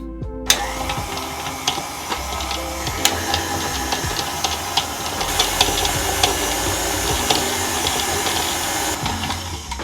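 An electric mixer whirs steadily through cookie dough with orange zest, vanilla and sugar, close and continuous, with small clicks and bumps from the beaters against the bowl.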